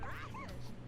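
A dog barks in The Sims: Unleashed, the 2000 life-simulation game, giving a few short, close, yippy barks in under a second over a steady low hum, with faint speech-like sound mixed in.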